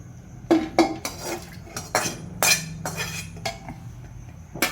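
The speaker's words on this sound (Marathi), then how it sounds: "ही कली जी आपण आता कुकरमध्ये टाकू" Washed goat or chicken liver tipped into a metal pressure cooker in a home kitchen, giving several close, sharp clinks and clatters of utensil against metal at irregular intervals, with no talking.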